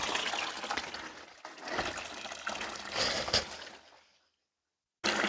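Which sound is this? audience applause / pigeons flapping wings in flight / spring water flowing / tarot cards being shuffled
spring water flowing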